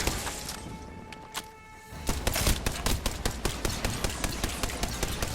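Gunfire aimed at electric fences in Apex Legends: after a quieter stretch, a rapid burst of sharp, closely spaced shots starts and hammers on steadily and loudly to the end.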